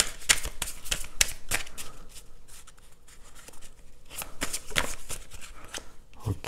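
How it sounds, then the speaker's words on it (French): Tarot cards being shuffled close by, crisp riffling bursts repeating through the clip with short pauses between them and no talking. "Quelques cartes du tarot pour le jour."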